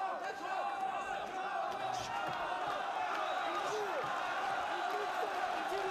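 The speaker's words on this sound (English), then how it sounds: "The Tajikistan crowd here, willing on their hometown fighter." A Tajikistan crowd at an MMA bout roars steadily for a hometown fighter, a dense, distant wall of cheering and shouts beneath close commentary.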